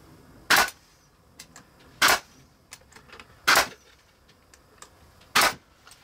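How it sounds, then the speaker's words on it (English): Brad nailer shooting 1 inch brad nails into pine strips while building a garden trolley: four sharp, loud pops spaced about a second and a half apart, with faint clicks and handling noise between. "we're going to use some 1 inch brad nails and shoot it into place"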